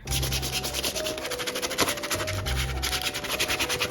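Sandpaper rubs and scratches rapidly across a cheap Halloween mask in a close, continuous, rasping stroke rhythm with no speech.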